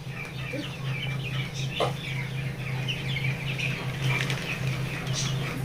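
Chickens at a poultry and chick market cluck steadily while they feed, a dense layered chorus of short calls over a constant low hum, with a brief flutter of wings partway through.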